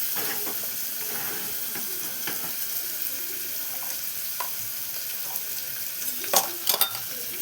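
A handful of lentils tossed in hot oil in a frying pan and stirred, a steady close sizzle with a few scraping taps of the spoon near the end.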